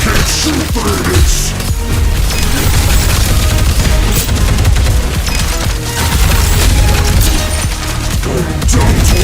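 Loud, dense gunfire fills a shooter video game battle, with rapid repeated shots and booming impacts continuing without pause throughout, under heavy effects and a faint voice.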